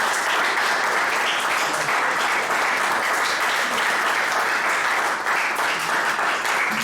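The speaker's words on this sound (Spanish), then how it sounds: "Vamos a darle un aplauso a Esteban." Church congregation applauding at a Sunday service in Zaragoza, dense continuous clapping from many hands held at an even level, with no talking heard.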